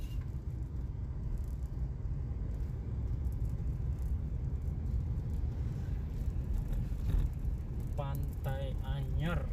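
Cars sit and creep in a traffic jam on the road from Anyer, a low constant engine rumble heard from inside a vehicle, with a voice talking near the end.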